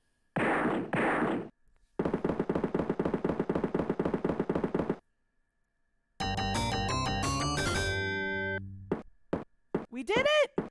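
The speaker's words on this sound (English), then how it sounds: "gunshots" Rapid bursts of gunfire from the Where in the World is Carmen Sandiego video game, playing in French, ring out as dense machine-gun rattles in separate loud blocks, followed by chiming electronic game tones, with a person talking nearby.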